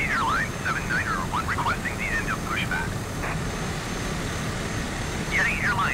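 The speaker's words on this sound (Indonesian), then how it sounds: "langsung saja kita putar baling-balingnya ya" A propeller aircraft engine cranks and starts inside a flight simulator, a steady droning hum running throughout beneath a voice that talks over most of it.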